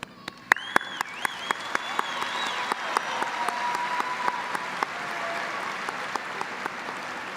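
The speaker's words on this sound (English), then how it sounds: "I would like to ask the graduates to join me in a round of applause for the family members and faculty" Graduates at a high school commencement applaud their families and faculty, a dense spread of clapping from a large crowd with crisp nearer claps standing out and a whistle rising above it.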